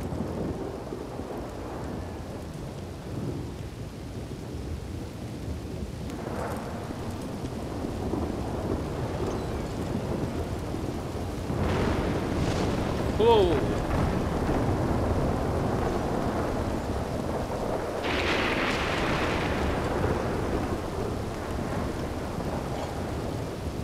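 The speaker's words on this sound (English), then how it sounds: "Oh, it's raining again." Steady rain pours down in the video game Red Dead Redemption 2 (RedM), with rolling thunder rumbling in the distance, swelling louder midway through before settling back into a constant wash.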